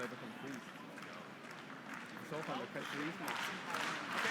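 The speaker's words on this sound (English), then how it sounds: "the crowd is cheering" A crowd cheers at a curling match: a steady, dense roar and clapping fill the arena under a commentator's ongoing talk.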